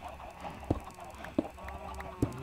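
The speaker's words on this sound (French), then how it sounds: "Ils sont là les poulets, merde." Chickens in Minecraft give three short, evenly spaced clucks over a low, steady in-game background.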